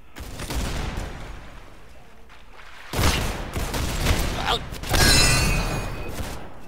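Video game gunfire in Roblox Arsenal, with bursts of loud rapid shots and a sharp sniper-like crack amid other game effects, with a voice speaking over parts of it.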